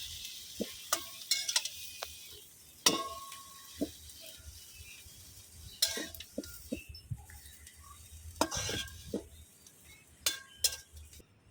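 Greens tossed with raw green chilli and onion in a pan, a soft steady sizzle broken by scattered scrapes and clinks of the spoon against the pan, close and unhurried.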